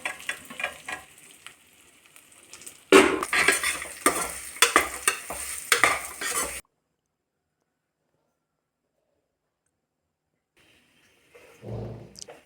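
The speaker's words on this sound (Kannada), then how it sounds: "ಘೀ ಹಾಕ್ಬಿಟ್ಟು ಎಲ್ಲ ಚೆನ್ನಾಗಿ ಫ್ರೈ ಮಾಡ್ತಾಯಿದ್ದೀನಿ ನೋಡಿ" Poppy seeds, dry coconut and raisins frying in ghee in a pan, crackling and sizzling under scraping stirring strokes for several seconds, then silence and a faint short sound at the close.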